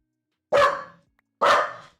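A dog lets out two sharp, loud barks about a second apart, close by, in an otherwise quiet indoor room.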